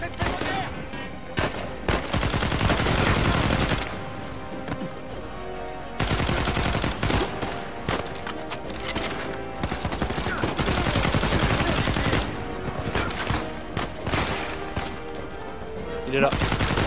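Sustained in-game gunfire in Uncharted 4: A Thief's End, dense rapid bursts of automatic shots with explosive impacts, loud and near, with someone talking over it at times.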